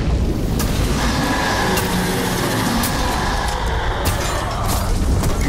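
Explosion in Middle-earth: Shadow of War, a loud, dense boom of rumbling game noise that holds steady across the whole stretch with no quiet gaps.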